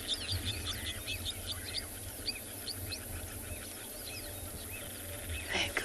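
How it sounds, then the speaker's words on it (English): A black-backed puffback calls at sunrise on an African safari, its repeated short clicking notes coming from mid-distance over a steady wash of insects and other birds. "You can hear the blackback puffback."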